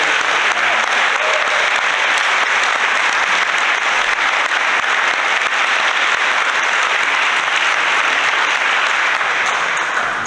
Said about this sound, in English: Can we get one more big round of applause for our senior senator?